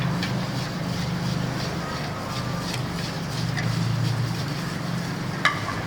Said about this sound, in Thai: ไข่แดง เราก็จะคนให้เข้ากันนะคะ